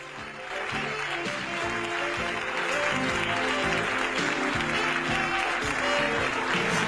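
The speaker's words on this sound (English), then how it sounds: "Is that applause going to happen the whole time?" Steady applause from a studio audience at a talk show fills the whole stretch, constant and fairly loud, with a faint tune playing underneath.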